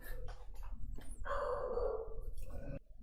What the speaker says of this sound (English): Dog's barking at somebody.